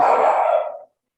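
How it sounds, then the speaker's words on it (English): One loud, close bark from a dog picked up by a live meeting microphone, sounding at the start and fading out within under a second, with nothing else around it. "The barking."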